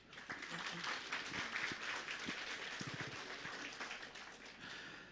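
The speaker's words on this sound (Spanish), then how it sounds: "Una vez más vamos a dar, por favor, fuertes aplausos." A church congregation at a Sunday service claps for a music group, a soft, steady patter of applause heard from some distance, with a few low thumps underneath.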